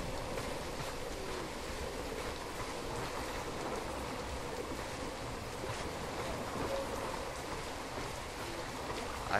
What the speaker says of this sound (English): I hear water.